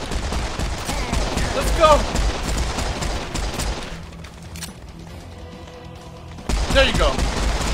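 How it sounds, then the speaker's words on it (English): Dual pistols firing in the video game Serious Sam 4, rapid bursts of loud gunshots with crashes and explosions, which pause briefly midway and then resume, while someone speaks over the action. "Dual pistols is amazing"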